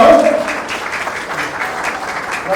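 Steady applause from wedding guests, a dense, even wash of clapping hands throughout with faint talk in the background.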